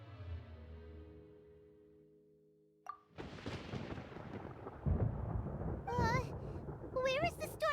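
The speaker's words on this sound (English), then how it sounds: "Paimon hears thunder!" Thunder in the video game Genshin Impact: a deep rumbling crack bursts in after a quiet musical passage, followed by a sustained stormy roar as character voices speak over it.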